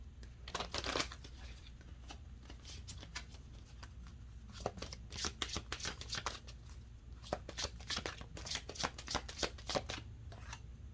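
Oracle cards are shuffled close by for a romance reading, with rapid riffling and flicking that comes in clusters and grows busier toward the end.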